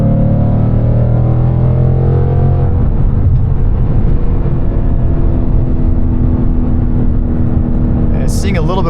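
Ford Mustang cruising in fifth gear with a slight transmission wobble, a steady low engine drone and road rumble filling the cabin, with someone talking over it throughout.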